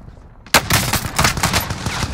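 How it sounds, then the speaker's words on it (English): Rapid bursts of gunfire from Call of Duty Warzone Pacific on the Caldera map, a loud, dense rattle of repeated shots that breaks out suddenly after a quiet start and keeps going to the end. "He's shooting at me."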